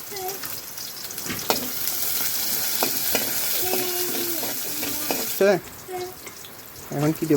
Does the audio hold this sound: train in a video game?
no